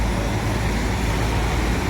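A PMTO bus arriving at a stop: a dense, steady low rumble of a large engine with roadside traffic noise, continuous and close for under two seconds.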